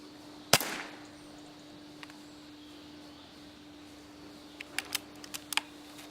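A single sharp rifle shot cracks out loud near the start, fired at a rat on a curb beyond a farm gate, followed by quiet and then a scatter of faint clicks.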